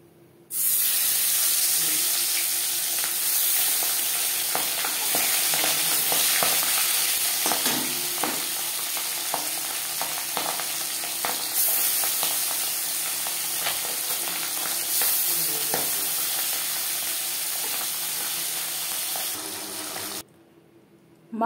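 Panch phoron spices crackle in hot oil in a kadai just used to fry pabda fish. A loud, close, continuous sizzle carries scattered pops and stirring sounds for about twenty seconds, then stops abruptly.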